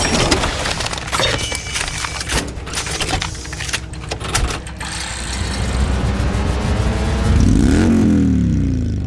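An Indian Thunderstroke air-cooled V-twin motorcycle engine barks through sharp, choppy revs, then rises into a swelling, sustained rev toward the end, loud and close.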